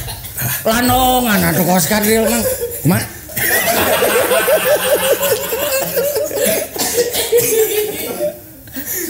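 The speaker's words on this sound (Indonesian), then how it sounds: "Batuk mah." A man coughs and chuckles amid lively conversation, with laughter breaking out between spoken phrases.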